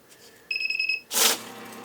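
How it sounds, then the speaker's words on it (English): A GS NX-422B money counter sounds its counterfeit detection alarm, a shrill electronic beeping of about half a second, followed by a short rush of bills being fed through the machine at close range. "when the alarm goes off, it's the bill that's in there that tells you that's the fake one"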